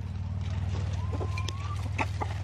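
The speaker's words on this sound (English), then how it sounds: "How civilized our chickens are" Chickens cluck and chirp softly nearby over a low, constant hum, with scattered pecking clicks and a brief rising peep.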